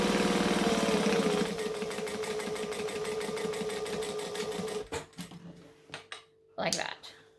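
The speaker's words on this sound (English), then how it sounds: "I'm just going to top stitch 1/4 inch from the seam" A sewing machine top-stitches a quarter inch from a seam during a garment tutorial: a steady rapid needle chatter runs loud for about five seconds, then stops, leaving brief clicks and light handling noises, with a short voice near the end.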